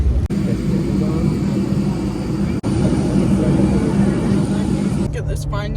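Steady airplane cabin drone just after boarding, a loud, continuous low engine and ventilation rumble with a couple of brief dropouts and some clatter near the end, voices faintly mixed in.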